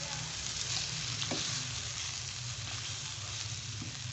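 Chicken with yogurt frying fast in a pan for a Pakistani shahi chicken korma, a soft, even sizzle that stays constant, with a couple of faint stirring taps.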